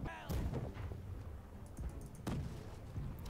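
Ship cannons firing in the naval video game Blackwake: heavy, booming shots roll out in a couple of loud volleys, each with a deep thud and a rumbling tail.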